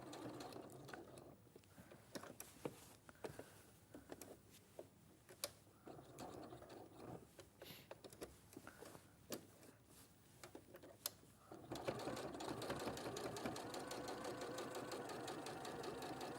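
A sewing machine stitches along a denim pocket edge, its needle ticking rapidly in short runs. It then settles into a louder, steady whirring stretch near the end.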